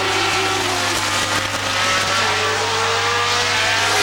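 Formula One race cars at the 1977 Dijon Grand Prix roar continuously, loud and fairly close, with engine tones sliding as the cars pass under a steady hum.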